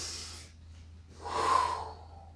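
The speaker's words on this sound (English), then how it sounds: "this is one of the places I want to be breathing" Heavy breath from someone performing a long karate kata outdoors in grass, a short exhale followed by a louder, drawn-out breath, close and alone.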